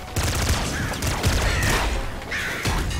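Laser minigun fire in the video game Nuclear Throne produces dense, rapid bursts of crackling shots that run almost continuously at high loudness with no speech over them.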